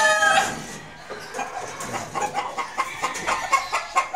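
White Albany gamefowl roosters on a farm, one crowing at the start and then several clucking in short, irregular bursts, fairly close with no talking.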